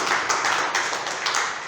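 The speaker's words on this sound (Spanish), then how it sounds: "Vamos a darle un aplauso al Señor" A church congregation applauds in a steady wash of many hands clapping together, dense and fairly loud throughout the short stretch, with no voices over it.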